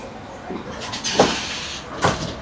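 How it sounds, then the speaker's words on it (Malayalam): A train's door slides open at a station stop in Germany, giving two short pneumatic hisses and thumps about a second apart over quiet cabin background. "വാതിൽ തുറന്നു."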